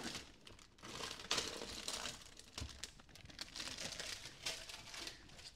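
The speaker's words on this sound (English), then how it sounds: "All right, let's peel the plastic off." Plastic film being peeled off a hot supermarket ready meal of pie, mash and liquor, a continuous crackling and crinkling with short sharp tearing bursts, close and fairly quiet, no talking.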